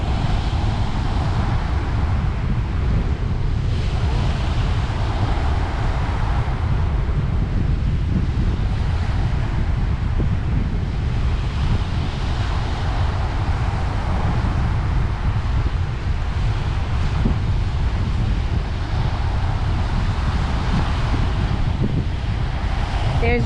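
Wind buffets the microphone at the beach at Burrum Point, a loud continuous rumble and roar with breaking waves washing underneath throughout.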